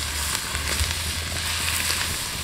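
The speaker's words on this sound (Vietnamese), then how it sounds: "Lương xào với lá nghệ nè." Field eel is stir-fried with turmeric leaves in rustic Mekong Delta style, making a steady, close, crackling sizzle with a low hum beneath and no talk.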